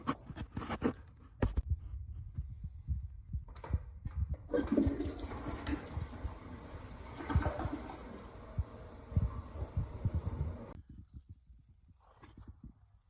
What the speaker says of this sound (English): I'm gonna get the toilet supply line hooked up and we'll turn that on. Run some water up in that bad boy